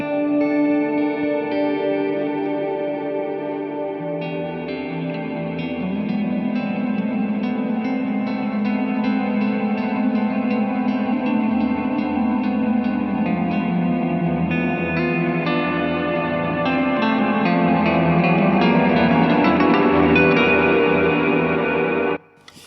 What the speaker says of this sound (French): c'est une vraie reverb d'ambiance